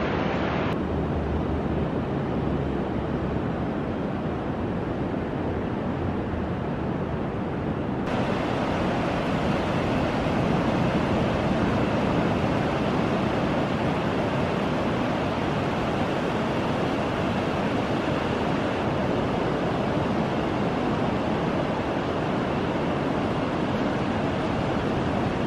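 Ocean waves on an autumn shoreline, a continuous broadband wash of surf with wind rumble, steady and fairly loud throughout with no voices.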